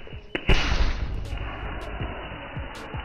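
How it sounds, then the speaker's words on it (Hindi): A homemade roll-caps firecracker thrown hard bursts with a single loud, sharp bang near the start, followed by a few seconds of crackling, rumbling noise that slowly fades. "इसे फोड़ने के लिए आपको एकदम जोर से इसे फेंकना है, तभी ये फटेगा।"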